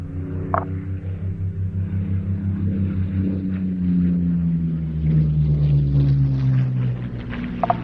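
A Curtiss P-40F fighter, built in 1942, flies at an airshow, its engine giving a steady pulsing low drone that swells slightly as it passes, moderately distant with faint crowd and wind noise around it.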